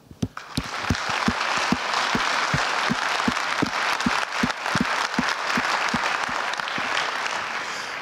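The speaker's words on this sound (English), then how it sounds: "let's give a warm and super loud applause to all the great speakers who did a great job here" A conference audience applauds the speakers with sustained, dense clapping that holds steady for the whole stretch, a few sharp individual claps standing out near the front.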